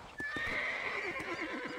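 A horse whinnies loudly in the Red Dead Redemption video game, a single close, shrill neigh that wavers and falls away into snorting over about two seconds.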